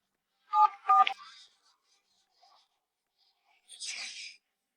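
Telephone dialing: two short, clear keypad tones close together, then near silence and a brief breathy rustle.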